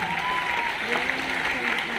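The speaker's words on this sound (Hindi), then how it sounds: "जल्दी से एक बार तालियां बजा दीजिए।" A room full of people claps steadily, a dense patter of applause with some faint voices mixed in.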